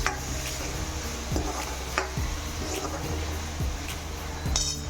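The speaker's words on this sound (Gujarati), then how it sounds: "હવે આ બધી જ વસ્તુને આપણે ધીમા તાપે મિક્સ કરી લઈશું." Pav bhaji vegetables, finely chopped with tomatoes, are stirred together in a pan over low heat. A spoon scrapes and knocks against the pan in a slow, steady rhythm over a constant low background hum.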